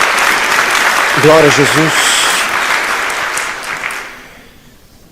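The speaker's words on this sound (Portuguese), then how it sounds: "Dê uma salva de palmas a Jesus." A church congregation claps in a loud, full round of applause as a voice shouts over it, the clapping fading away into near silence by the end.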